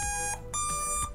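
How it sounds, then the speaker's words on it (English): Beeping tones from an electronic speed controller on an RC freestyle wing after binding to its receiver: a short, close sequence of pitched electronic beeps that step in pitch, with no talk. "you'll hear your ESC beep the proper tones, indicating that it sees the receiver"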